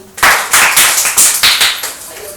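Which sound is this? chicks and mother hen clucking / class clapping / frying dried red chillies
class clapping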